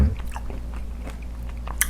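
Crispy delivered seasoned (yangnyeom) fried chicken skin is bitten and chewed close up, soft crunching bites spread through a quiet room with one sharper crunch near the end.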